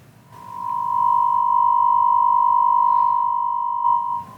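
Steady synthesized tone with amplitude modulation and a DC offset, holding one loud sustained pitch for about four seconds with a faint added partial, alone with no talk.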